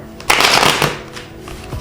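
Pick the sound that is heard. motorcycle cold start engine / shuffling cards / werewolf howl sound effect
shuffling cards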